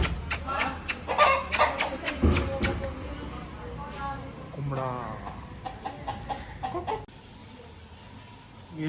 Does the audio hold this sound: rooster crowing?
yes